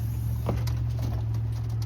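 Soft, low racing pigeon coos come through over a steady outdoor hum at a pigeon loft, with a few faint bird calls and flutters mixed in.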